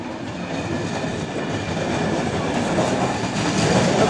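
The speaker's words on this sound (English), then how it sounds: "224 to London King's Cross. It's an LNER." An LNER train bound for London King's Cross passes at York station, making a steady, close, loud rumble of rolling wheels and carriages that fills the whole stretch without pause.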